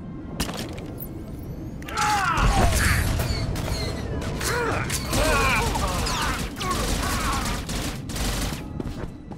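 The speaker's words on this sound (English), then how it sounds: "the old sweeping gunfire and a concussion grenade seems to do the job." Gunfire from a Star Wars space-combat video game sweeps across in repeated bursts, mixed with a heavy concussion grenade blast and mechanical creaks, loud and busy over several seconds.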